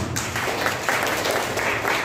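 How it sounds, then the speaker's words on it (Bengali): An audience at a stage performance claps in a brief, dense burst of applause that runs evenly through the moment, loud and close, with some voice mixed in. "অবশ্যই একটা হাততালি।"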